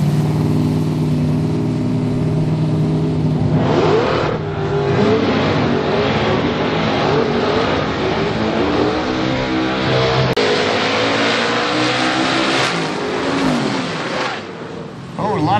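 A Mustang hot rod accelerates down a drag strip, its engine rising in a loud roaring pitch sweep and then sustained engine roar, with smoke from the rear as tires spin, while a commentator talks over it.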